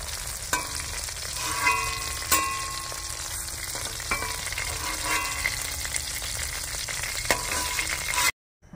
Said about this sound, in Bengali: মাছটা ভাজা হয়ে গেছে, এবারে আমি একটা পাত্রে নামিয়ে নিচ্ছি।